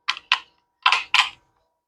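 Four AAA batteries pushed one after another into the battery compartment of an RFID door lock, giving four short plastic clicks in two pairs, close and crisp with silence between.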